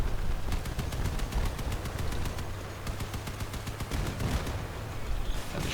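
Rapid machine-gun fire in the vehicle combat game Crossout rattles in a steady fast stream of evenly spaced shots, loud and close over a noisy battle background.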